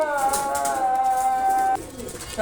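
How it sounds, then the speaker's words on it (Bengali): White golden Royal Teddy pigeons coo in a long, steady rolling call that stops abruptly, heard close and fairly loud over a noisy background. "দুটোই হোয়াইট গোল্ডেন কবুতর"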